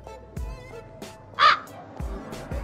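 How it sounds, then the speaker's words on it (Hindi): A crow gives a single clear caw over a quiet indoor scene, with a few soft thumps and knocks around it. No talking is heard. "कौवे का आवाज आ रहा है भाई"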